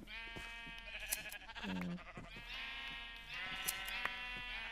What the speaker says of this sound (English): I have some green sheep